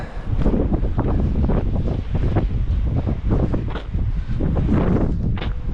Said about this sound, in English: The wind is just getting worse and worse.